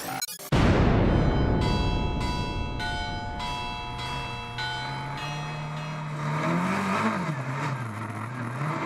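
Lancia 037 Group B rally car engine revving hard at a Rally Legend event, a loud, sustained, rasping roar that rises and falls with blips of the throttle, heard close by.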